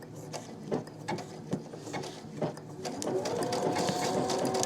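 A sewing machine fitted with an applique foot stitches fabric with a light, rapid mechanical clatter. It starts in short uneven bursts and then runs continuously, close by.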